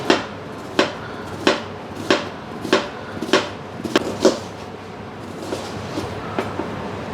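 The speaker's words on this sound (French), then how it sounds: "On va hacher l'oignon et ciseler la ciboulette." A knife chops onion on a cutting board in a steady series of sharp, close knocks, roughly every two-thirds of a second, then fainter, quicker cuts toward the end, with no voice over them.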